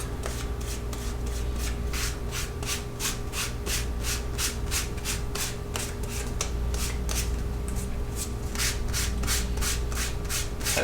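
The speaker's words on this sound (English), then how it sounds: "go through again with the finer grit sandpaper, kind of doing like a motion, like a waving motion to hit the beveled edge" Fine-grit sandpaper worked in a waving motion along the beveled edge of a leather card holder, giving a steady, rhythmic scratchy rubbing of even strokes, close up and continuous with no talk.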